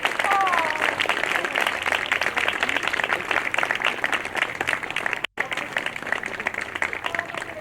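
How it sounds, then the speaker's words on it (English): Audience applause follows a school band concert in a gym or auditorium: sustained, dense clapping from a crowd that runs throughout, with scattered voices and a brief cutout near the end. "one more round of applause for this great group"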